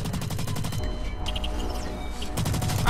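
Rapid bursts of gunfire and bullet impacts in the futuristic shooter game Blacklight Retribution, loud and dense, with a rattling rhythm that pauses briefly mid-clip before resuming; game music and effects underneath.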